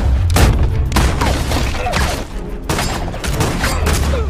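Gunshots crack and boom in a cowboy film shootout against Mexican mafia, with several loud bursts of fire spread across the scene.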